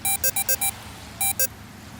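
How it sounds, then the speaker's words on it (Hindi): A phone rings with a loud electronic alarm-like tone: five quick beeping bursts, a short pause, then two more, all close and clear. "फोन आ रहा है जरा।"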